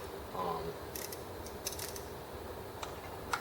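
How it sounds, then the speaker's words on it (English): A small low-profile ratchet screwdriver makes quiet, sparse clicks with a few sharp ticks and rattles while a case is being stripped. It is faint and close, with no talking. "I have a screwdriver, this little low profile ratchet one."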